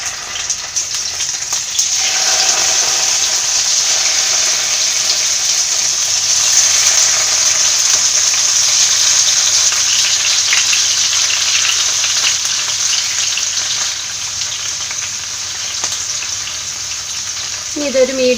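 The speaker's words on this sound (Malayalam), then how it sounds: "ഇനി ഇതൊരു മീഡിയം ഫ്ലെയിമിൽ വെച്ച് ഫ്രൈ ചെയ്യാം." Lady fish coated in masala frying in hot oil with curry leaves on a medium flame, a steady loud sizzle and crackle running throughout with no talk.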